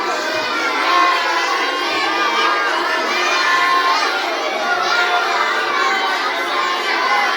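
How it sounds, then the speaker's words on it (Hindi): Many children reciting lessons aloud together at an Urdu madrasa in Shahpur, a loud, continuous chorus of overlapping young voices with no pauses. "ये सब लोग सबक सब सुना रहे हैं"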